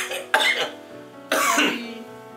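Two harsh, broadband bursts a second apart, each trailing off, like a person coughing nearby with no talking around them.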